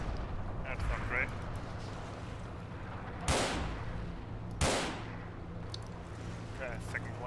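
Two heavy booms of gunfire and explosions hit in a Forgotten Hope 2 multiplayer battle at Seelow Heights, over a steady rumble of distant combat, while a player talks.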